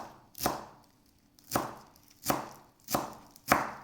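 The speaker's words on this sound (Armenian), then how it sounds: "մանր կտրատում ենք" A knife chops green onion and coriander finely on a cutting board for a salad, five crisp separate strikes spaced about a second apart, close and fairly quiet with no talking.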